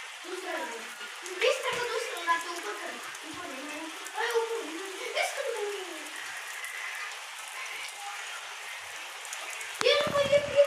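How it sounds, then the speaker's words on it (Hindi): Heavy rain falls on a mud village house as a soft, steady patter beneath a voice speaking throughout. "बड़ी तेज़ बारिश आ रही है।"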